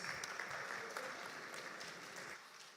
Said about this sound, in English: Mr. Ahmed Nazar, ladies and gentlemen, a round of applause.